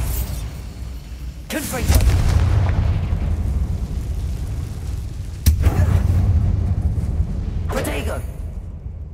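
Bombarda spell blasts in Hogwarts Legacy on PS5, inside Overlook Mine: three sharp, booming explosions spaced several seconds apart, each with a rumbling tail, while a voice speaks between them.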